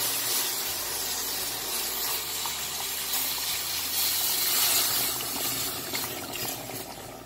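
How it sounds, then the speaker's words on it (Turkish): Milk poured slowly into a pan while making a tahini mock chicken breast pudding, a steady soft pouring and sizzling hiss that continues evenly throughout with no talking. "Şimdi de yavaş yavaş sütünü döküyoruz, karıştıralım."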